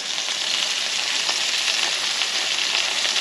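Noodles being stirred in a pot on the stove, a steady broadband hiss and sizzle that runs evenly the whole time, close and moderately loud, with no voices.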